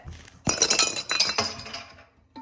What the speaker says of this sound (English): I just dropped the shot glass into the water.